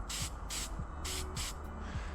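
Brake cleaner sprayed onto an alternator part during an SR20DET-swapped Nissan 240SX alternator upgrade, four loud hissing bursts of aerosol in a steady rhythm, each about a quarter second long, close to the mic.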